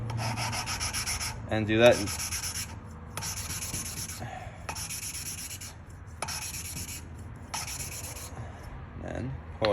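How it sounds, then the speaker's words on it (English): Engine valve being lapped into its seat during an engine long-block rebuild, heard as repeated bursts of gritty rubbing and grinding that come and go, with brief speech. "Lift it up, you can hear grind."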